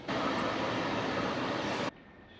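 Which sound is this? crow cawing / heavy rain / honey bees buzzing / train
train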